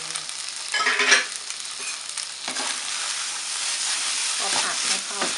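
Glass noodles with shrimp and cha-om are stir-fried in a wok, with close, hissing sizzle and scraping stirring bursts that swell and fade in several strokes.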